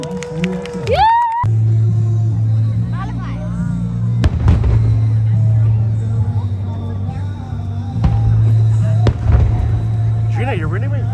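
Nagaoka fireworks show in Hawaii, with repeated booming bursts spaced a few seconds apart and a steady low rumble between them, heard from the crowd, with cheering and voices at the start and end.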